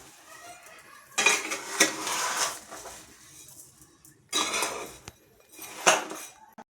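Metal spoon scraping and clanking against a pan while amla candy is stirred with sugar pieces, cinnamon and cloves; bursts of stirring come in two or three loud rounds separated by quieter pauses, close up.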